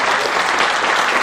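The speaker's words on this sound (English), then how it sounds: "How do we give a round of applause?" An audience applauds at the close of a mayoral debate, a dense, loud wash of clapping that stays steady for the whole short stretch.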